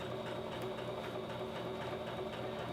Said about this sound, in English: It's all about sewing a nice even edge and getting your seams right when you get to them